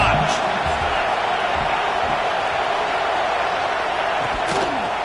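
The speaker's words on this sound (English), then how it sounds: "this crowd is turning it up a notch" Football stadium crowd at an Iowa versus Nebraska game roaring steadily as the offense nears the goal line, a dense, loud, continuous wall of cheering with no let-up across the span.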